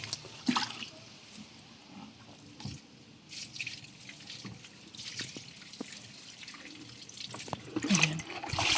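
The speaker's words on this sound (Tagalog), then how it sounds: "Lagyan natin ng tubig." Water is poured out around okra plants in a garden, faint splashing and dripping that comes in irregular bursts, with no talk.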